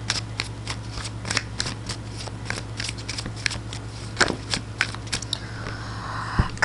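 A deck of tarot cards is shuffled close by, with a steady run of crisp riffling snaps and papery flicks and no talking over it.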